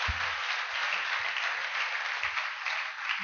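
A church congregation at a pastor's service applauds the Lord, a dense, even roar of clapping that fills the room continuously with little talk.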